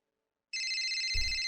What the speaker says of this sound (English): Pick up the phone, Okabe